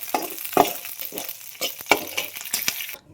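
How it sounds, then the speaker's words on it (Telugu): Green chillies frying in a pan while being stirred, a soft sizzle under repeated scraping and clinking strokes of a spatula, close and moderately loud, stopping abruptly at the end. "పచ్చిమిరపకాయలు ఎంత బాగా వేగితే అప్పుడే టేస్ట్ కూడా బాగుంటుంది."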